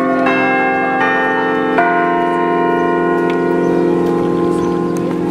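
A large church bell at the Basílica de Aparecida tolls in Aparecida, Brazil, with several loud, ringing strikes whose long humming overtones overlap and sustain through the whole stretch.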